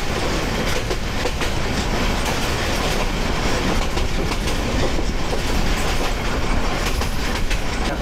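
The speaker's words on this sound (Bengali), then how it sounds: "আমাদের ট্রেন কিন্তু স্লো হয়ে যাচ্ছে" Dewanganj commuter train rolling on rails, a continuous loud rumble with rhythmic clickety-clack of wheels heard from on board, steady throughout as it runs toward a station.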